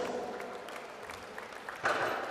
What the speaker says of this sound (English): please, a huge round of applause for Terry Hollands of Dartford